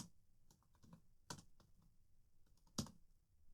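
Keys tapped on a computer keyboard while JavaScript code is written, a few soft scattered clicks with two sharper louder strokes, close by and alone with no talk.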